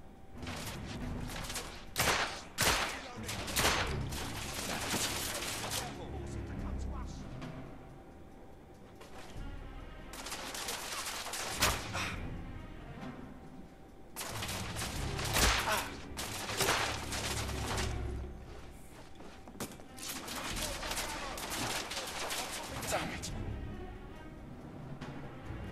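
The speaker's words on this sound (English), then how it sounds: "Everyone's blind firing super hard." Blind gunfire in the third-person shooter The Order: 1886 comes in repeated bursts of rapid shots separated by short lulls, played fairly quietly throughout.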